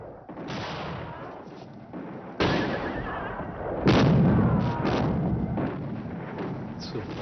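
Cannon artillery booms during a historical drama battle scene: several heavy, sudden blasts with rumbling tails, spaced irregularly and close, over a constant dramatic backdrop.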